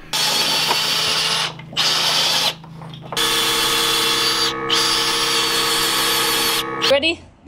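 Power drill whirring in several loud bursts with short pauses between, close by, during radiant floor heating installation in a house under construction, ending with a brief clatter.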